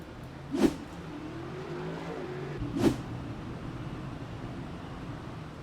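A race car in a virtual Cup race at Martinsville accelerates out of turn 4 amid a steady engine drone, with two brief louder swells of engine noise passing by.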